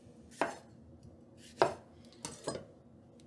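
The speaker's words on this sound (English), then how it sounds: "we're also going to be dicing this up on the smaller side to match those tomatoes" A knife dicing peeled cucumber on a cutting board: four sharp, close chops at irregular intervals over quiet background, with no voices.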